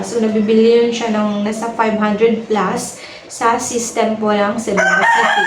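A rooster crows loudly and repeatedly right beside someone talking, the drawn-out calls rising over and under his steady speech throughout.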